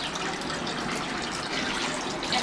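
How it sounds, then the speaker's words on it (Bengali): Water runs steadily from a tap while fish is rinsed in a home kitchen, a continuous close splashing gush that lasts the whole moment with no talk. "এখন আমরা এগুলো ধুয়ে টুয়ে দিয়ে দিব নিপার কাছে"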